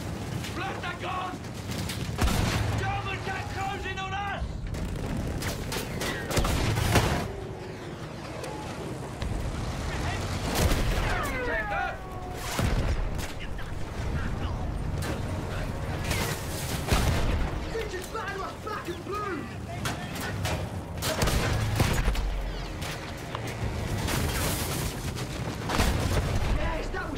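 Battlefield 1 combat against a field gun: repeated gunshots and booming explosions at irregular intervals over a steady rumbling engine-like din, with voices talking throughout.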